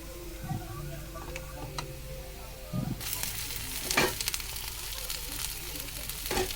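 Okra (vendakkai) sautés in hot oil, starting with low background noise and a few stirring knocks before a steady sizzle swells in partway through, with occasional scraping clatter.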